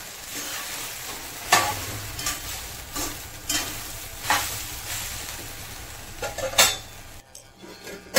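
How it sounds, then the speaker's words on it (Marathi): Sabudana khichdi with peanuts and potato being stirred in a pan over medium heat, with a steady soft sizzle broken by several sharp scrapes and clinks of a spoon against the pan, fairly close. "छान मिक्स करून झालेला आहे साबुदाणा, शेंगदाणे, बटाटा सर्व काही"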